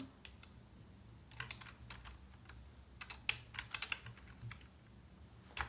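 Fingers typing code on a computer keyboard, a scattered run of quiet key clicks in short bursts with pauses between, close but faint, no talking.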